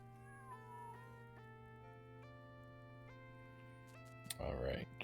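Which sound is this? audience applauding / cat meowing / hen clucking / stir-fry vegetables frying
cat meowing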